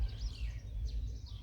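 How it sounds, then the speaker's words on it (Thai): Birds chirping on a morning outside a rural school with green grass and mountains behind, a few faint high twittering calls over low outdoor rumble. "ตอนเช้าเสียงนกก็ยังร้องอยู่"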